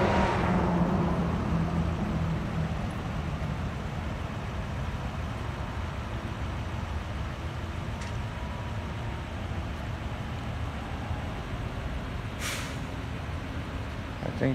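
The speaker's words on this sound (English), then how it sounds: "Traffic." Steady, continuous rumble of passing street traffic at moderate distance, with a brief hiss near the end and no talking.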